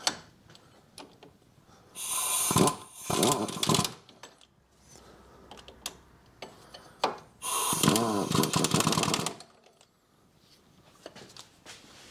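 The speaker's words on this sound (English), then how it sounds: "just do these up gently with a gun." An impact gun gently tightens the front brake caliper bolts on a 2012 Ford Fiesta 1.2 Zetec petrol. Two close bursts of buzzing, rattling whir, each about two seconds long, are separated by quieter workshop handling sounds.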